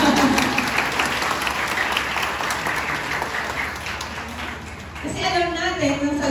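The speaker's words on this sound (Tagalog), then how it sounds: "Palakpakan natin siya si Lord ng malakas" Congregation applause during a Sunday church service, a busy wash of clapping that gradually thins, then a speaker's voice takes over near the end.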